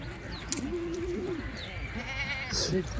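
Kathiawadi milk goat lets out a drawn-out, quavering bleat at moderate distance, with another short call near the end over low background murmur and faint bird sounds.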